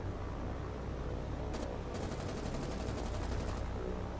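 Anti-aircraft guns fire at attacking Bristol Blenheim aircraft during a naval battle in the War on the Sea video game, heard as rapid bursts of gunfire over a constant loud rumble of battle noise.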